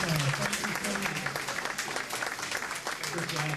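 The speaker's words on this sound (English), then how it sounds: "Let's give her a round of applause." Audience clapping at a recognition reception fills the clip steadily, a dense patter of many hands with some voices mixed in.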